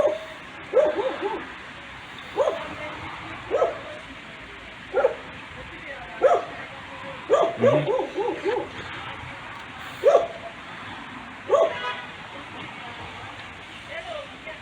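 A dog barks repeatedly in short, loud, evenly spaced bursts, with a few whimpering yips mixed in and people talking in the background.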